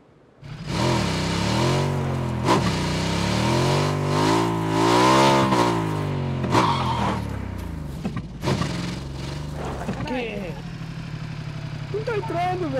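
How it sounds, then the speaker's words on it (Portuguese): A small motorbike engine in the battle royale game PUBG revs and drones steadily, rising and falling in pitch, with a person talking over it throughout. "Uma motinha aqui."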